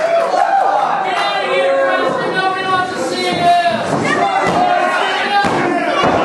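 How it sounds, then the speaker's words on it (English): A wrestling crowd at an indie show jeers and shouts at a wrestler, with loud overlapping voices, calls and chatter filling the venue and an occasional thud from the ring. "Disparaging words from the crowd"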